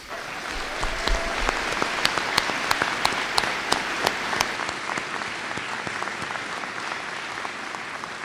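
A commencement audience at the Terra State Community College 2019 ceremony applauds the graduates with sustained, dense clapping from a large crowd, sharp individual claps standing out near the front before the applause thins slightly toward the end.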